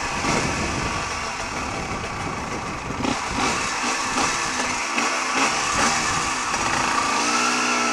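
A motorcycle engine drones and climbs in revs during a motovlog ride, with buzzing rising tones toward the end over constant wind rush, no voices heard.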